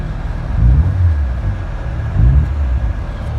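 A Ford Escort MK5 engine is revved twice in short bursts, each rise in its low rumble swelling briefly before settling back to idle, close by.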